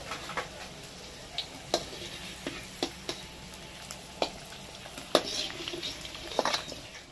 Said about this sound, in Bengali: দেখো আলুগুলো পুরো লাল করে ভেজে নিয়েছি